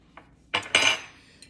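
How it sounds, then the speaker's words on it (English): Spoon scraping and clinking against a pot holding melting chocolate, syrup and butter, a few short metallic strokes close by and loud, with no talk. "So I'm gonna let that melt and I'm gonna stir it the whole time"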